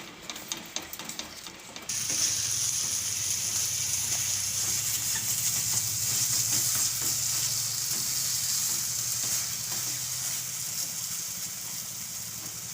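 Sama (barnyard millet) sheera with almonds and raisins roasting in a pan, a loud continuous sizzle with steady scraping and stirring throughout, a brief quieter stretch before the hiss swells.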